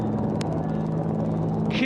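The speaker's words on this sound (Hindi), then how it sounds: "3 अपाचे हेलीकॉप्टर विक्ट्री फॉर्मेशन में" Three Apache helicopters flying in victory formation over a Republic Day parade near India Gate, a steady loud rotor drone with a low hum, continuous throughout, with a brief sharp burst near the start and a louder swell at the end.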